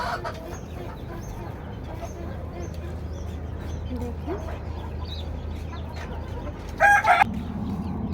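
Chickens on a village-style rooftop are being fed. Several birds keep up a continuous clucking close by, with a sharper, louder squawk near the end, over a low background hum and faint human voices.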